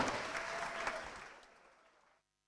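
A festival audience at an international film festival evening in Vébron applauds a singer, fairly faint clapping that fades out gradually and ends in silence.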